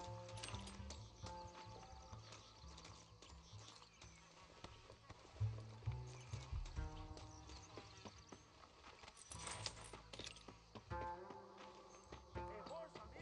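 Horse hooves clop in a quick, galloping rhythm under game music and occasional voices, growing louder at moments, in the video game Red Dead Redemption.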